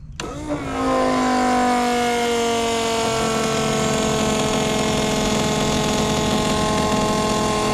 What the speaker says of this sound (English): Let's turn the pump on.